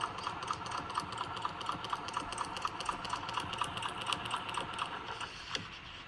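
A sewing machine stitches a quilt block with a fast, even run of mechanical clicks over a soft motor hum, fairly quiet and alone.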